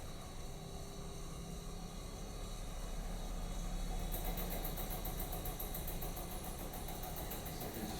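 An electric motor drives a standing wave apparatus at high frequency, giving a steady, continuous hum and vibration that holds at a constant level throughout, with a faint rapid buzzing texture that appears partway through.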